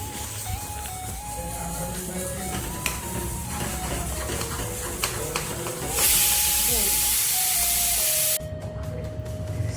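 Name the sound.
pressure cooker hissing while cooking rice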